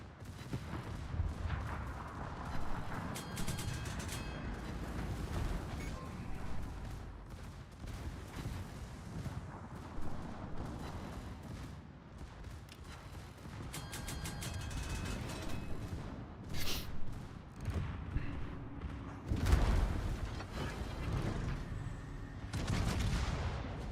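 Ship secondary guns firing in a World of Warships naval battle, a steady stream of repeated booming shots and rattling volleys over rumbling background, continuous and fairly loud throughout.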